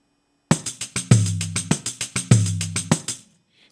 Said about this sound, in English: that's the very basis of a samba groove played with the Pandeiro.